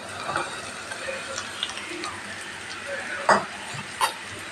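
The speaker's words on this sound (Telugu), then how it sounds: "పసుపు అన్నీ వేసిన తర్వాత కట్ చేసి పెట్టుకున్న క్యారెట్ వేస్తున్నానండి" Chopped carrots drop into a hot pan coated with turmeric for a Telugu carrot fry, producing a quiet, steady fry hiss broken by a couple of sharp utensil clicks and scrapes.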